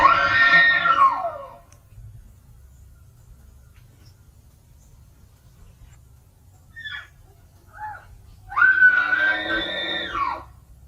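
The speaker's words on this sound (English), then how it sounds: "The footage starts with chilling, loud screams echoing through the forest." Two long, loud wavering screams ring out in a forest, one at the start and one near the end, each echoing and trailing off, with a couple of faint short cries between them over quiet low background noise.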